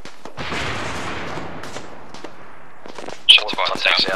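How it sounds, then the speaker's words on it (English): Gunfire in the military shooter Arma 3, with a few sharp distant shots over steady background noise and a louder burst near the end. "Shots fired south."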